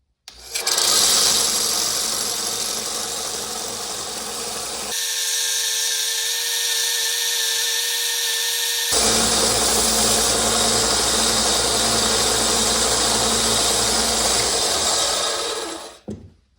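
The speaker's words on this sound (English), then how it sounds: "the benchtop sander got us close" Benchtop sander shaping a small acoustic guitar pickup part, a steady loud whirring grind with an abrasive hiss that shifts to a lighter tonal hum midway, then returns to full grinding before stopping.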